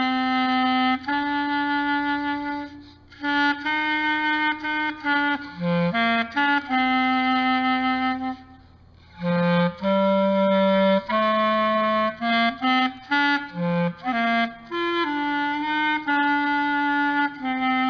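A Bundy woodwind freshly fitted with new pads and cork and regulated, played as a melodic phrase of sustained, clean reedy notes with short pauses between phrases, close and loud.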